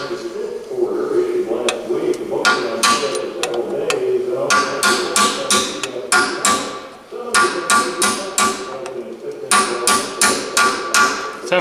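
Sharp metallic hammer strikes ring out in irregular bursts while working on a WD45 tractor's brakes, with voices talking intermittently between and under the hits.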